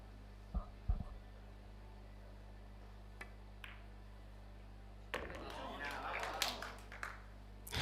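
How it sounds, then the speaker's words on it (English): Crowd of Spanish supporters cheering and clapping at a women's 8-ball pool final, a brief burst of applause and shouts rising after earlier scattered claps in a quiet hall. "a lovely cheer from the Spanish supporters"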